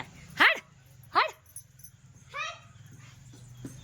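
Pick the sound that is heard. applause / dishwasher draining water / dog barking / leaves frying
dog barking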